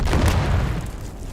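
A grenade explodes in the video game Dune Awakening as one loud, deep boom with a rumbling tail that slowly fades over about a second.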